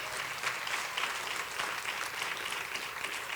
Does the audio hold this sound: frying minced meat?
no